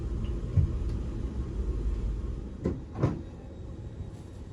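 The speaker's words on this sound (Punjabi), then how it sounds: "CFF vous souhaite la bienvenue et un agréable voyage à bord de l'Intercity 1 à destination de Oerlikon, Zurich Aéroport" A Swiss CFF Intercity 1 train running toward Oerlikon and Zurich Airport, heard from inside the carriage: a low, quiet steady rumble with a few soft knocks and rattles partway through.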